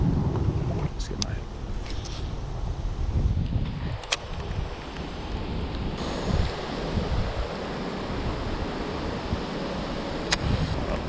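Wind blowing across a lake around a kayak under 12 feet, a constant close rushing buffet with choppy water noise beneath it and a few sharp knocks.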